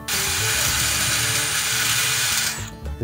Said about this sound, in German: Als kleiner Trick nehmen wir gerade da die Hohnbürste, um den ein bisschen rausputzen und schleifen